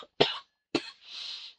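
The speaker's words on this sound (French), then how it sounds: "Je suis désolée si je tousse." A woman coughs twice in quick succession, close and sharp, during an unboxing indoors, followed by a short breathy exhale and otherwise near silence.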